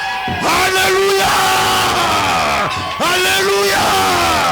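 A church congregation shouts and yells cries of joy, a loud sustained crowd roar with tonal whoops rising and falling in two big surges.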